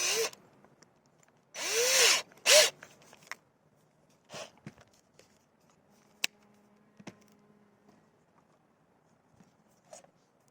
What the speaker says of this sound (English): 3 mm, 1/8 inch metal drill.